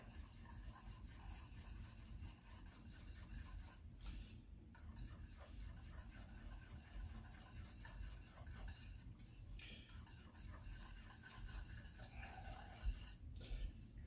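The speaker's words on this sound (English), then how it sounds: "Give it a good whisk" A whisk works through chocolate pudding pie filling in a pot, a soft continuous swishing and faint metal scraping with a few brief pauses, quiet and with no one speaking.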